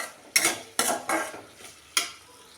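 Ivy gourd (kovakkai) frying in a pan and being stirred, with four sharp spatula scrapes against the pan over a soft sizzle, close and with no one speaking.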